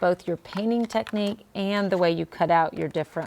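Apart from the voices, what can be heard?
No distinct noise like a dog, phone or traffic.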